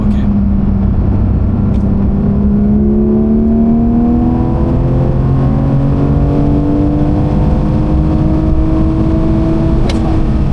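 A sports car accelerates hard on a race track during a track day, heard loud and close from inside. The engine note climbs in repeated rising sweeps through the gears, with a droning rumble underneath.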